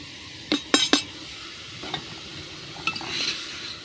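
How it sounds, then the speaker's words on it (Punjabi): Cauliflower sabzi with chopped coriander and fenugreek stirred in a pan: a few sharp utensil scrapes and clinks against the metal over a low background sizzle, close up, in short bursts with gaps between. "ਸਾਰੀ ਸਬਜ਼ੀ ਦੇ ਵਿੱਚ ਜੀ ਆਪਾਂ ਇਹਨੂੰ ਚੰਗੀ ਤਰ੍ਹਾਂ ਮਿਕਸ ਕਰ ਦਾਂਗੇ"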